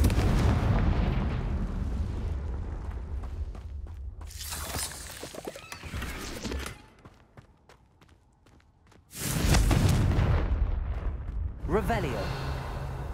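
Loud fiery spell blasts in the Hogwarts Legacy video game, with a bursting explosion early on and another heavy crackling blast near the ten-second mark, separated by a quieter stretch with some game sound underneath.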